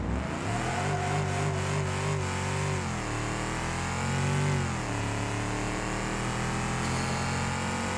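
A car engine in the BeamNG.drive driving game revs and accelerates continuously, its pitch rising, dipping and climbing again through gear changes, loud and steady with no talking.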